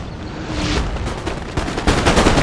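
Musket gunfire in the video game Napoleon Total War, ragged volleys of loud cracks rolling over a rumbling battlefield din, with denser bursts near the end.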